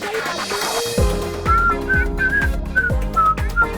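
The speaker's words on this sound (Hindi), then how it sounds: "लड़कियों को सीटी नहीं बजाना चाहिए।" A girl whistles a short tune in a series of bright, clear notes, close and fairly loud, over a background of music with steady low beats.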